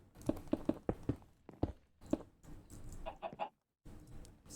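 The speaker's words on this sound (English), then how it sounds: "How did that chicken get up there?" A Minecraft chicken clucks in a few soft, short bursts, spaced unevenly, with faint blocky footsteps and game noise beneath.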